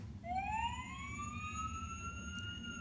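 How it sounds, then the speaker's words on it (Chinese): A toy fire engine siren from a pull-tab children's sound book wails in a steady rising and sustained electronic tone over a low background rumble, fairly quiet. "可以听到消防车的声音。"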